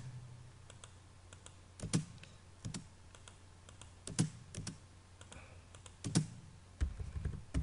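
Keys on a computer keyboard are tapped at a steady pace while commands are entered in AutoCAD, giving quiet, close clicks with a few sharper presses standing out.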